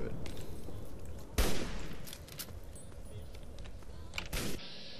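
Gunfire in the Fallout 3 video game, a dense burst of shots with a loud blast near the start and another toward the end, over game noise and muffled talk.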